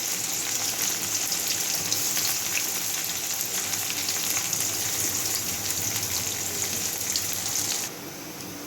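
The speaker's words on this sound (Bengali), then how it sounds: "পেঁয়াজগুলো লাল লাল করে ভেজে নিতে হবে।" Onions frying in hot oil seasoned with bay leaf, a steady loud sizzle that holds evenly for nearly eight seconds, then drops to a softer hiss.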